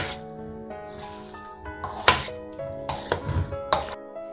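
Herbed vegan potato salad being stirred in a bowl, giving several soft clinks and scrapes of a utensil against dish, with a few sharper knocks close by over steady background music.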